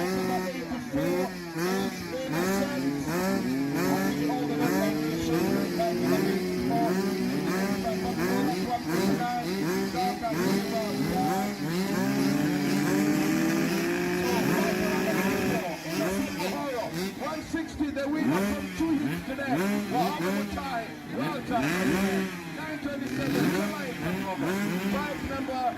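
Motocross bikes racing at an outdoor motocross event, engines rising and falling in pitch as riders rev and pass, heard continuously underneath a commentator's excited talk.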